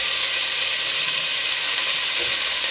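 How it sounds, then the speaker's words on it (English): Sausages sizzle in a little olive oil in a pan over medium heat, a loud, dense, continuous hiss that stays steady throughout. "Throw these sausages in there."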